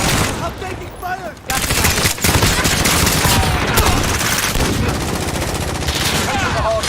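Sustained gunfire in a first-person shooter video game, rapid automatic bursts and overlapping shots that start quietly, then jump loud and dense and keep going for several seconds with a few brief gaps.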